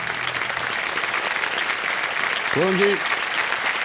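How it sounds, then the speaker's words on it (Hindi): Studio audience applauding on the KBC (Kaun Banega Crorepati) Season 14 game show set, a steady dense wash of clapping throughout, with a brief spoken voice near the end over the applause. "तालियां बज जाएं इनके लिए"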